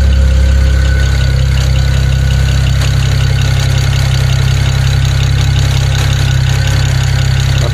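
A BMW N54 engine from a 135i/335i idles steadily and loudly up close, a constant low rumble with a faint ticking rhythm running through it, unchanging throughout.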